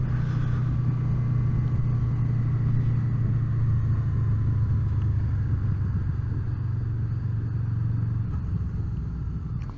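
A Honda VFR800 motorcycle engine runs with a loud, constant close-up drone and low hum, steady for about eight seconds before the tone drops slightly near the end.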